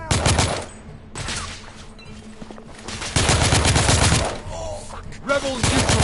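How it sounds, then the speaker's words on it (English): Gunfire in The Order 1886, set in a rebel firefight: several loud bursts of rapid shots broken by short pauses, with a voice talking between the volleys. "I'm under heavy fire"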